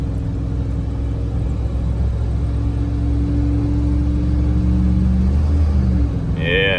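A Dodge truck with a slipping transmission, towing a trailer, drives with a steady low engine rumble and road drone from inside the cab, rising slightly toward the end.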